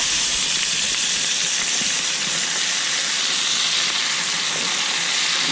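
Peacock bass fillets fry in a hot pan, a loud, dense, steady sizzle and hiss running continuously with no pauses, close to the listener and alone without any voices.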